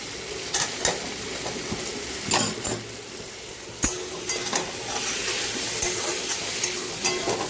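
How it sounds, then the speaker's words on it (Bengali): Spice paste with ginger paste sautés in a pan, a steady close sizzle with scattered sharp scraping clicks and clatters of a spoon stirring throughout. "আদা বাটা আমি অল্প একটু দিয়েছি, দিয়ে মশলাটাকে একটু কষিয়ে দিচ্ছি"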